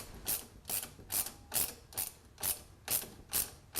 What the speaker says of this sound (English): we just have to tighten up these bolts on the lower clamps